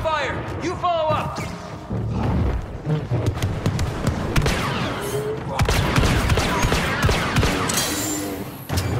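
Blaster gunfire in Star Wars Battlefront 2 while playing as Han Solo: rapid loud bursts of shots and impacts over a busy battle, with voices talking over the action.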